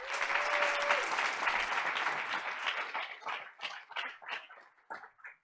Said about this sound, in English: Let's thank everyone at Golden Valley with another round of applause.